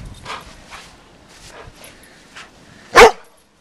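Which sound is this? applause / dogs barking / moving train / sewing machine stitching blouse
dogs barking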